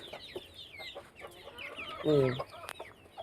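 Backyard chickens, including white young roosters, cluck and squawk close by, with one loud harsh call in the middle amid scattered smaller clucks and a voice talking faintly.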